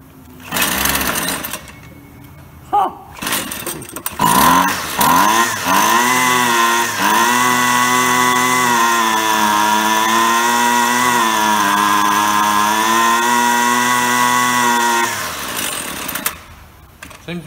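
A Husqvarna string trimmer, once run on ethanol gas, is primed and choked, then yanked with a few short pulls before its small two-stroke engine catches and runs loud and steady for about ten seconds, then cuts out.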